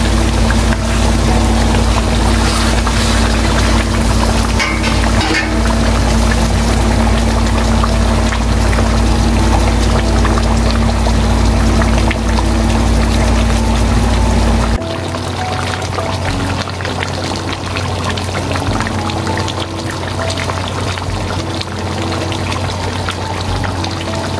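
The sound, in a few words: water poured into cooking pot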